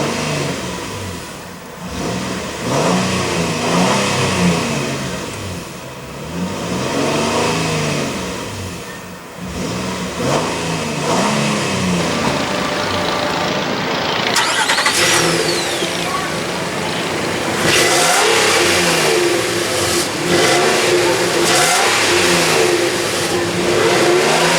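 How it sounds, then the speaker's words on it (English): A 2016 Nissan Frontier's 4.0 L V6 is revved repeatedly, climbing and dropping in several loud surges between idle stretches, close up and without talk. "let's go ahead and rev it up and see how that V6 engine sounds"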